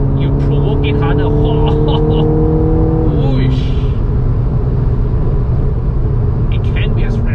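A Ferrari Roma engine roars loudly at high revs with a steady tone, then the pitch drops sharply as it shifts and settles into a heavy rumble. Faint voices come through underneath.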